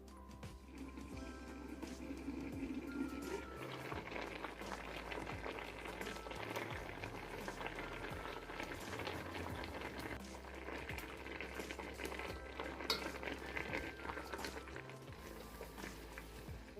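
Pieces of watermelon rind for candied dried watermelon simmer in a pot on low heat, a faint continuous bubbling and hiss that stays steady and quiet throughout, with no voices.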